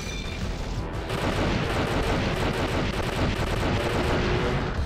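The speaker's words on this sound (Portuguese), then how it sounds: "Eu mandei a bomba atômica" A bomb detonates in the arcade shoot-'em-up 1944 The Loop Master on Neo Geo: a dense, continuous roar of explosions and rapid gunfire fills the whole stretch at high volume without letup.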